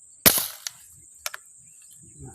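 An air gun fires a single sharp shot while fishing for tilapia, loud and close, followed by a couple of fainter clicks and a low rustle.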